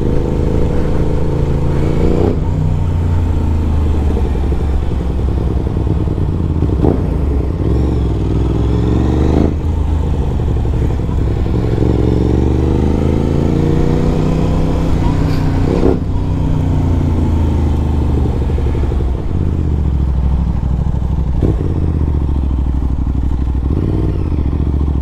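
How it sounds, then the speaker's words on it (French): A 2024 Aprilia RS660 sport bike engine revs loud and close throughout, with repeated rising and falling throttle sweeps, sharp blips and a rough, continuous mechanical roar, with no voices. "Putain, le bruit!"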